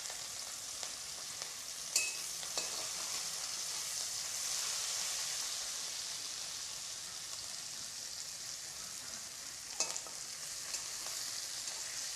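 Steady frying sizzle from a hot wok as red chilli and cumin powder cook for a fish curry with potato and tomato, a broad even hiss with a couple of sharp clinks of stirring.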